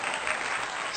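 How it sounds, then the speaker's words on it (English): A crowd applauds for a guest being introduced, a steady dense wash of clapping filling the full second at even loudness. "Round of applause, round of applause."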